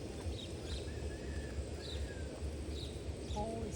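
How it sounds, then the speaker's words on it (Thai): Birds and crows calling faintly outdoors, scattered short chirps and whistles over a dense rustling background. "โอ้ยเสียงนกเสียงกา"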